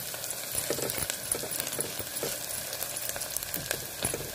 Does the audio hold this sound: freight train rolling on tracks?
no